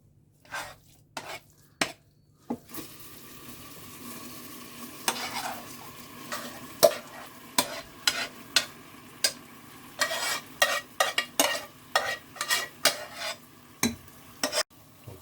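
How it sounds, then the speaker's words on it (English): A spoon stirs and scrapes in a hot pan as pudding mixture meets caramel, a soft sizzle underneath and a long run of sharp metallic clacks and scrapes, close and irregular, no voices. "we will add a pudding mixture to caramel"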